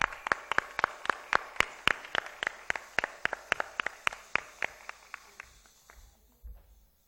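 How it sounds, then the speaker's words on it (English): Applause from an audience at a plenary session on stage: a thin run of distinct, evenly spaced claps at a steady beat, fairly faint, tapering off and fading out near the end. "Big round of applause."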